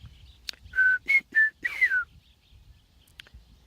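A person whistles an imitation of a meadowlark song: a short run of clear, sliding notes, close and alone against a quiet background.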